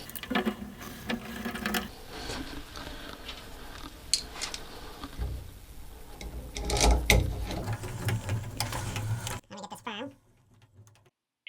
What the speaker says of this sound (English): And here I am just tightening each side to make sure that this cartridge is firmly seated.